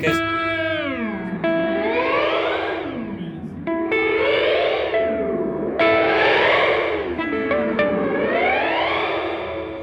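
An Earthquaker Devices Afterneath V3 reverb pedal has its drag control swept, so a repeating wash of reverb slides up and down in pitch in rising and falling waves, loud and continuous, with chords that restart every couple of seconds.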